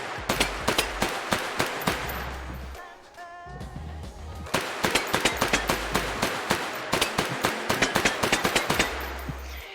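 Submachine gun in H3VR firing full-auto bursts, sharp rapid shots in two long strings separated by a brief pause with faint mechanical clicks, ending in a short final burst.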